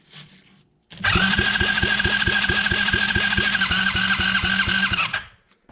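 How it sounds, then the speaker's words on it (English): A GIO engine cranks over on a new starter after a shot of starter fluid, a steady rapid chugging rhythm of compression pulses under a loud whirring starter for about four seconds, then stops without catching. "That new starter's definitely working better."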